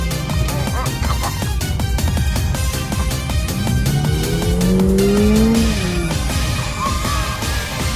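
A Toyota GR86 driving hard, loud engine roar with revving and tire squeal, rising and falling pitch as it accelerates, close and continuous with faint voices underneath.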